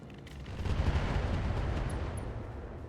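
Weapon fire, including long-range missiles, slams into a Mauler mech in RogueTech, a deep booming rumble that swells and lingers as a loud, continuous roll of impacts.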